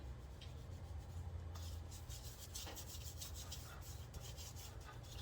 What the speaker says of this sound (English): Rub all the spices on it.